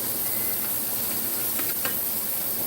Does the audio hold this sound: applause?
no